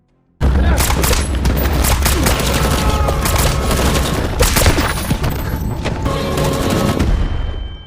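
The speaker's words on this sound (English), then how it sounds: "The film opens with a gun battle involving two factions" Film gun battle between two factions, loud and dense with rapid bursts of automatic fire, sharp shots and booms running continuously to the end.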